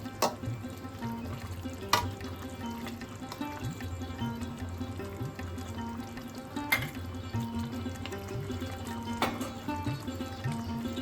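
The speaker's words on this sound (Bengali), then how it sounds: "হালকা হাতে একটু নাড়াচাড়া করে দিচ্ছি" Egg omelette curry being gently stirred in a pan, a soft steady simmer and sizzle with a few sharp spoon taps against the pan rim, no talking.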